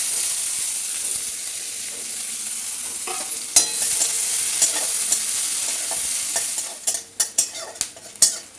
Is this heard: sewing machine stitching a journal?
no